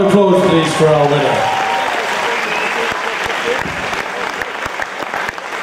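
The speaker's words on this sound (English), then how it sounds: "Big round of applause, please, for our winner." Loud audience applause at a NABBA Mr. Ireland 2013 bodybuilding competition greeting the junior class winner, dense steady clapping and cheering from a large crowd that fades slightly, with a voice over it at the start.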